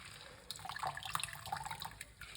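Pomegranate being squeezed by hand for juice, a soft wet trickle and splashing of liquid running into a container, quiet and close with no talking.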